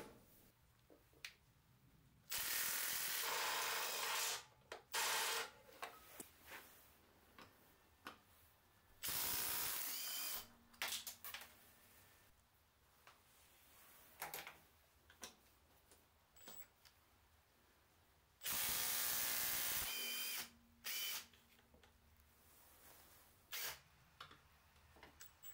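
A drill fitted with a Makita flexible bit holder drives screws in several loud whirring bursts of a second or two each, separated by quieter stretches full of mechanical clicks, ratcheting ticks and handling noise.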